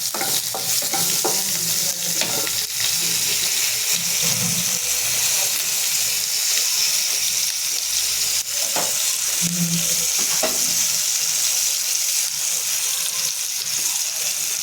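Dried red chilli, Kashmiri chilli, turmeric and salt mixed with water fry in a pan for a katla fish curry with mango, making a steady, loud, close sizzle with occasional stirring scrapes.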